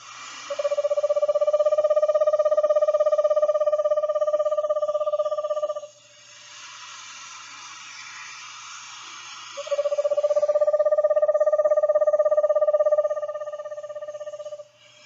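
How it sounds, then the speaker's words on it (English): An eastern screech owl sings its monotonic trill, two long, even, steady-pitched trills of about five and four seconds separated by a pause, clear and close with faint background noise. "In addition to the whinny, they produce the kind of monotonic trill."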